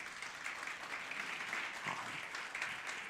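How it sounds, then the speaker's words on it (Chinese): A church congregation at a Mandarin Sunday service claps to welcome a newborn, producing a steady, quiet patter of many hands with no break. "我们来拍手来欢迎哦"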